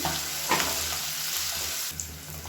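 Onions and other vegetables sautéing in a hot pan, a continuous close sizzle with a few stirring clatters, alone without speech.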